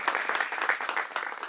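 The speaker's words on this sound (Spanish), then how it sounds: "Dale un fuerte aplauso a tu Dios." A church congregation breaks into sustained applause at the close of a Spanish-language worship service, a dense, steady wash of many hands clapping with no voices over it.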